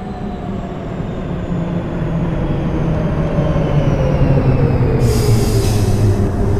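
A subway train at 72nd Street station in the OpenBVE train simulator game gives a loud, steady low rumble of rolling wheels and motors, with gliding tonal whines rising and falling and a brief high hiss near the end.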